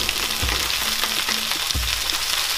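Spinach wilting in a hot frying pan as a base for scrambled eggs, giving a continuous bright sizzle with a couple of soft low thumps from stirring, close and alone.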